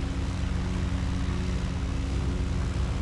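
A flight-simulator airplane engine runs at full throttle for takeoff, a steady dense roar with a constant low hum and no voices over it.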